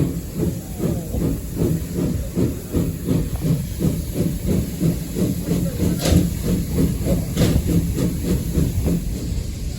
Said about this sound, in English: we were off, puffing endless steam into the sky.